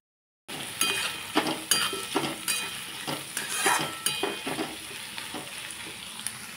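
Sliced cabbage and other vegetables frying in a pan, a steady close sizzle broken by repeated clinks and scrapes of stirring, with no talk.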